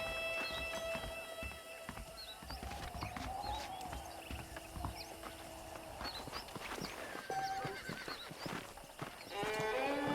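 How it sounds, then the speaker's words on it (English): Saddled horses in the video game Red Dead Redemption, with hooves clip-clopping and scattered neighs and snorts over a busy, layered ambient backdrop. "The horses are saddled up over here."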